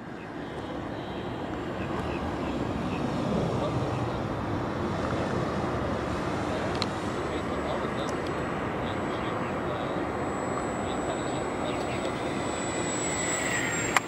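RC model RAF SE5a biplane in flight, its small engine droning steadily and continuously across the whole stretch, fairly loud with wind buffeting, while people talk faintly in the background.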